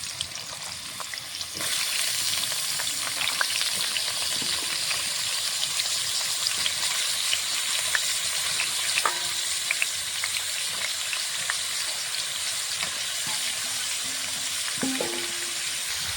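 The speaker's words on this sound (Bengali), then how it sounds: "তেলটা গরম হয়ে গেছে, কচুর মুখটা ভেজে নেব।" Taro stolons crackle and sizzle in hot mustard oil. A steady, moderately loud frying hiss starts after a brief quiet moment and runs on with scattered pops.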